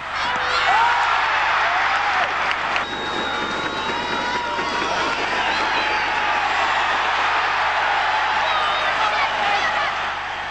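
Australian football crowd at a 1987 St Kilda match erupting as the Saints take the lead, a loud sustained roar of cheering and whooping from a large stadium audience with no break.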